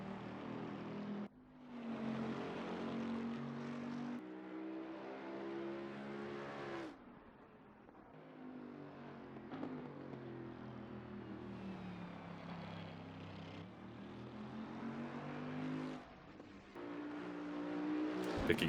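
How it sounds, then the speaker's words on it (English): A 2018 Bentley Continental race car in Assetto Corsa Competizione at Bathurst, its engine droning and revving through repeated gear changes with rising and falling pitch, steady and moderately loud throughout. "Picking up the dulcet sounds of the Bentley Continental 2018 model"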